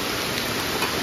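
Heavy rain pours steadily on a forest campsite, a loud, even hiss of downpour with no pauses.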